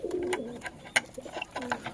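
A Madrasi pigeon coos in a few soft, throaty, rising and falling phrases at close range, with brief rustles between the calls.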